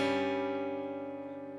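Guitar chord with a flatted fifth, a dissonant tritone sound, struck once and left ringing steadily as it slowly decays; close and unaccompanied.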